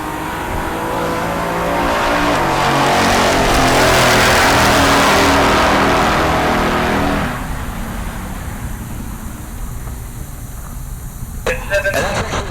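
A Chevelle and a Corvette drag racing down the strip at Heartland Park Topeka, their engines swelling to a loud roar as they pass, then fading off into the distance.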